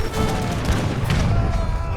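In Age of Empires 3, a fort fires on pursuing hussars amid a large battle, producing a dense, rumbling barrage of booms and gunfire that runs continuously under a commentator's voice.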